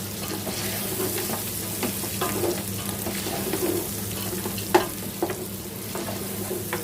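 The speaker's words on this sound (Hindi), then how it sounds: "इसको थोड़ा सा ऐसे साथ साथ भूनते रहेंगे ताकि ये नीचे ना लगे" Spices and ingredients for Punjabi yakhni pulao sautéing in a pot, a steady close sizzle with scraping stirs and occasional clinks of a spoon, no talking.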